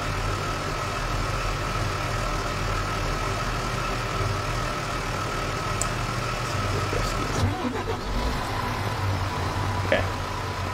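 Fire truck engine idling in a firefighting video game, a steady low rumbling drone that holds constant throughout with a few faint clicks near the end.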